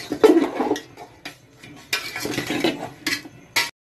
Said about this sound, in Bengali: সর্ষাটা দেওয়ার পরে এবার একটু নেড়ে নিচ্ছে আর কি, তাহলে সব কাঁঠালগুলোর মধ্যে একটু মিশে যাবে